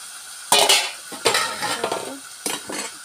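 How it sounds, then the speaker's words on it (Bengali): Prawns tipped into a hot pan and stirred with a utensil, loud clattering scrapes of metal on the pan over a steady sizzle, several bursts in quick succession, no voices. "যে মাছগুলো আছে না, মাছগুলো দিয়ে দিলাম একসাথে দিয়ে"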